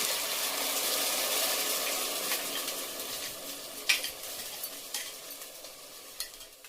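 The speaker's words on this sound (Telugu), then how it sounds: "ఇప్పుడు టమాటా ప్యూరీ వేస్తున్నాను." Tomato puree poured into a hot pan of fried onion and ginger-garlic paste for pav bhaji, a bright steady sizzle with a few splattering pops and stirring knocks, close and without talk.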